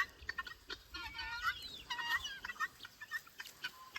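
Guinea fowl kept as ornamental birds call out in a run of harsh, rapid, grating cackles. The calls are loud and fairly close and come in repeated bursts, with no other sound over them.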